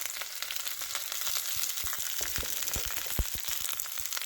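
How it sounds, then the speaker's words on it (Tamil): Ingredients sauté in a pan with a constant close sizzle, while a utensil taps and scrapes in quick uneven strokes, growing busier toward the end, with no speech. "இதை இப்போ நான் வதக்கி எடுத்துட்டு"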